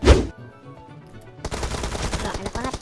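Gunfire from a P90 in PUBG Mobile: a loud opening burst, a lull, then sustained rapid automatic fire rattling on steadily.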